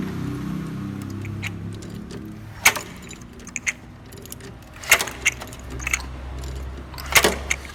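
Camshaft gear noise from a Mercedes-Benz M271 engine as the crankshaft is turned slowly by hand: sharp, close metallic clicks and ticks arriving at uneven intervals over a faint low hum.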